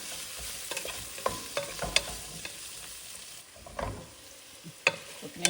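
Chilli, turmeric and salt are stirred in a frying pan for a greens curry. A low sizzle runs under scattered scrapes and sharp clinks of a utensil against the pan, fairly quiet and close.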